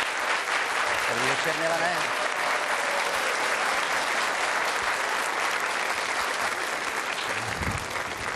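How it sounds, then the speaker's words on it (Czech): Sustained applause from a theater audience greeting satirist and actor Milan Markovič as a guest at the Paškál 2004 show, a dense, even wash of clapping that fills the whole stretch while a voice speaks briefly over it. "Ten potlesk bol špičkový."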